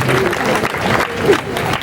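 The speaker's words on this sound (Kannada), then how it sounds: "ಚಪ್ಪಾಳೆ ಹೊಡ್ರಿ ಮಾರ ಚಪ್ಪಾಳೆ ಹೊಡ್ರಿ" A crowd claps loudly at a film poster and trailer release during a festival at Siddanakolla, a dense burst of applause with a voice talking over it.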